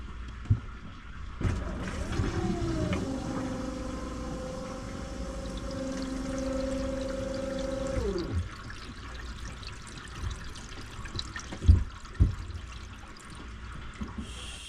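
Water rushes through PEX plumbing pipes as a valve is opened, giving a steady hissing flow with a sustained tone for several seconds. The flow then cuts off, leaving faint knocks and clatter.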